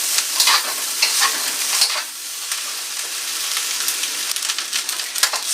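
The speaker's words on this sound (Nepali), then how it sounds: "त्यसपछि मजाले मिक्स गरेर फ्राई गर्नु होला एकैछिनको लागि।" Chicken chow mein with a splash of vinegar stir-fried in a pan over medium heat, giving a steady close sizzle and frying hiss broken by scraping stirs, with no talk.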